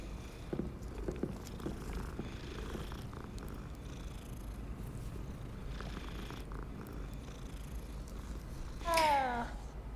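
Purring of a cat in the video game Hogwarts Legacy, a steady low rumble running through the clip, close and clear, ending in a brief higher chirp or meow-like call near the end.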